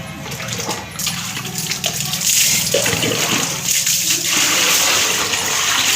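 Tap water poured from a bucket over someone being bathed, splashing and gushing in irregular loud pours that swell and continue, close by with no talk.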